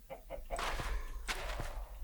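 Chickens in the video game Minecraft cluck softly a few times against faint background noise, with some light footstep-like taps mixed in.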